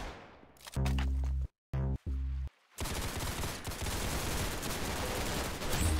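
Loud gunfire in a video game, one heavy burst of shots broken by brief silent cuts, followed by a long, dense roar of sustained shooting or explosion noise to the end.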